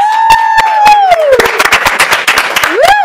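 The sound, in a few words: crowd applauding and cheering at election watch party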